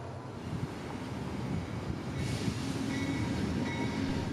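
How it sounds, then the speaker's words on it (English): Amtrak 91 passenger train, running with only one engine, rumbles past the Kissimmee station area with a steady rolling roar of wheels on rail. Wind buffets the microphone, and the rumble grows slightly louder as the cars go by. "A 4 hours late Amtrak 91, curiously with only one engine."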